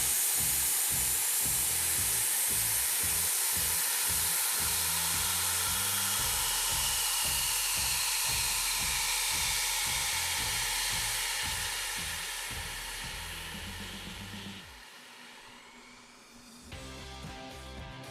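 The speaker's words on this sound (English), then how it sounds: "Brace yourself and open the nozzle to allow all nitrogen gas and dry chemical to empty" An Ansul Red Line extinguisher empties its nitrogen gas and dry chemical through the hose in a loud, steady hiss with a rapid pulsing underneath. The blast weakens and sputters near the end.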